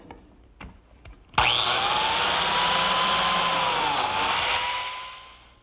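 A biscuit joiner cuts a slot into wood for a biscuit-and-glue joint. After a few faint knocks the motor snaps on loudly, whines steadily for about three seconds as the blade bites in, then winds down.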